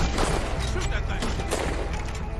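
Rapid, loud gunfire aimed at an alligator in Red Dead Redemption 2, a dense string of close shots and booms running through the whole short clip.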